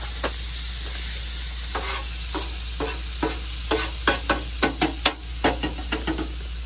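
Riced cauliflower sizzles on a Pit Boss griddle at a campsite, a constant frying hiss broken by sharp scraping strokes of a spatula that quicken into a rapid series near the end.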